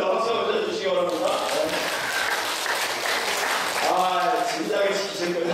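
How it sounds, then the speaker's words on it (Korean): A church congregation at a revival gathering applauds with steady, dense clapping that fills the whole stretch, while a voice speaks over it. "박수 한번 쳐주시기 바랍니다"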